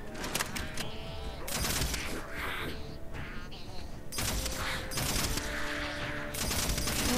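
Gunfire rattles in the video game Halo 4: dense bursts of automatic fire and blasts overlap in loud, continuous volleys, with brief lulls between them.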